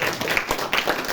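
An audience at a Navratri camp motivational talk claps briefly, a short, uneven patter of hands with a few sharper individual claps standing out.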